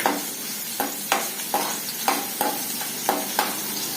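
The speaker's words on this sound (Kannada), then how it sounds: "ಮೊದಲಿಗೆ ಬೆಳ್ಳುಳ್ಳಿ ಹಾಕ್ತೀನಿ ರೀ ಬೆಳ್ಳುಳ್ಳಿ ಚೆನ್ನಾಗಿ ಫ್ರೈ ಆಗತ್ರಿ" Garlic frying in two spoons of groundnut oil for a greens stir-fry, a steady close sizzle broken by repeated sharp stirring scrapes roughly every half second, with no talk.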